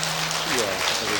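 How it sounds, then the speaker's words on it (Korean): Catholic congregation applauding in thanks during a Lenten overnight prayer vigil at a retreat house, a dense wash of many hands clapping, brief and steady, with a voice briefly audible. "은혜 베풀으신 하느님 아버지께 감사 박수를 드립니다."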